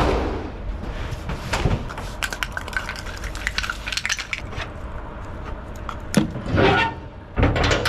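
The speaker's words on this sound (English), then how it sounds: "Just push this door in a bit, shut the back doors" Back doors of a lorry pushed in and shut, with knocks and a couple of heavier metallic slams near the end amid clattering handling noise, no talk.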